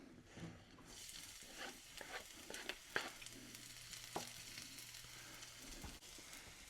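Minced garlic sizzling in hot oil for Filipino garlic fried rice, a soft steady crackle with a few utensil clicks and scrapes, quiet and close, with no talking.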